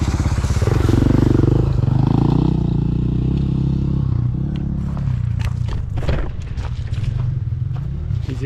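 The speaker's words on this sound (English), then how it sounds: "These idiots out on the trail using trail bikes." Trail bikes riding along a single-track hiking trail in the hills, with a loud, steady motorcycle engine drone throughout, some rising revs and scrapes of gravel, close by and dominating.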